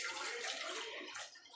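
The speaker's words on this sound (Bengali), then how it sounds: "দেখো মা জল দিয়ে দিল। এটা প্রেসার কুকারে ঢেলে দিচ্ছে।" Water poured into a pressure cooker while making sabudana khichuri: a short, soft, continuous splashing pour that fades out at the end.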